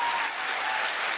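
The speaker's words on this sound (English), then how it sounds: "What are you clapping for?" An audience clapping, dense and steady applause filling the moment without any voices over it.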